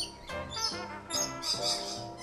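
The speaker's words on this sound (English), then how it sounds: "Permanent inhabitants here are these colorful rainbow parrots." Rainbow lorikeets call in Australia, a run of shrill, harsh chirps and screeches repeating in bursts, fairly close and moderately loud with no talking.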